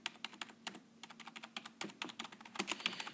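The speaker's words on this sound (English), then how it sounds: "Nice thing about this keyboard, actually, is that the keys don't need much travel to go down." Typing on a Logitech K120, a cheap low-travel membrane keyboard: a steady run of quick, light key clicks close to the mic, with irregular bursts and short pauses and no voices.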